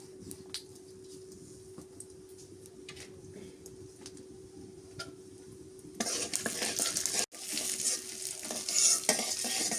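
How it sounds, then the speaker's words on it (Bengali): Whole cumin seeds frying in oil, a quiet low sizzle with scattered ticks and pops that suddenly swells into a louder, brighter hiss partway through, with a brief clatter and a short pause before it continues. "আস্ত জিরা দিয়ে দিলাম তেলের মধ্যে।"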